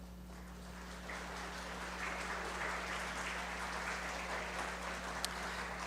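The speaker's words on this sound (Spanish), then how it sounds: "licenciada María Fernanda Chávez Vilchis, a quienes recibimos con un fuerte aplauso." Audience applause welcoming a speaker at a legal conference on artificial intelligence, steady soft clapping from a crowd heard at a distance over a constant low electrical hum.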